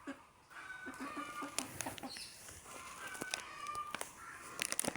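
Several chickens cluck and squawk nearby in short, irregular bursts, with a rooster-like call mixed in over faint background noise.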